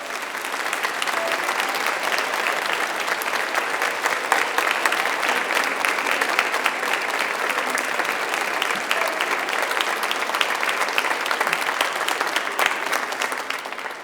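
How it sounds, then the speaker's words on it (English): A large audience of graduates, families and supporters claps at a ceremony, dense and continuous applause at an even level for the whole stretch without a break. "Give them a huge round of applause."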